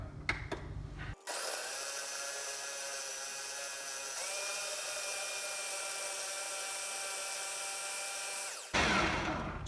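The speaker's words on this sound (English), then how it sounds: "Now we're going to process this for roughly around 45 seconds." A food processor blends frozen sweet potatoes into a creamy chocolate nice cream. It starts with a few clunks, then runs loud and steady for about seven seconds, steps up in speed midway, and stops before a final rattle.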